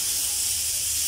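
Pressure cooker hissing steam in a home kitchen, a steady broadband hiss that holds on evenly and close for the whole moment, with no talk over it.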